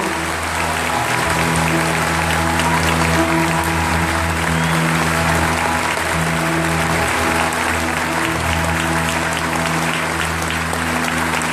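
Sustained, louder applause from a church congregation honoring the Virgin Mary at a Charismatic Renewal Pentecost service rolls on evenly for over ten seconds as a thick, continuous crowd clatter.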